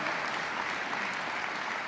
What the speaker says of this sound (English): Let's give her a round of applause for the tremendous work